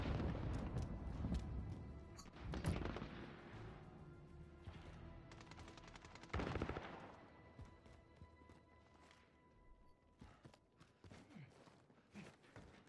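Gunfire in an online shooter game, scattered sharp shots and short bursts spread over several seconds, mixed with clattering footstep-like sounds, fairly quiet overall.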